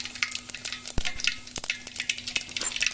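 Mustard seeds and cumin sizzle and pop in hot oil while fenugreek fritters are being prepared, a steady crackling hiss broken by a few sharp spits, heard close and with no voices.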